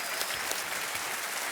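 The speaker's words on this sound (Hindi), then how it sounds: "उनके लिए भी बहुत तालियां बजाएं" The studio audience of Kaun Banega Crorepati gives continuous, dense applause, steady and fairly distant with no voice on top.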